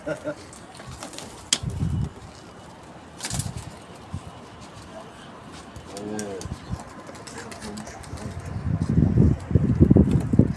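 Soft pigeon coos surface briefly amid outdoor noise, with wind gusts and murmuring voices around them.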